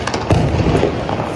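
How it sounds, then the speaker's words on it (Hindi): A large Diwali ground spinner firecracker (phirki) goes off nearby, giving a loud sputtering burst of crackling and popping with a few sharper bangs, heard on its own at close range. "ये एक बड़ी वाली फिरकनी है जिसमें शायद विशल भी बचती है"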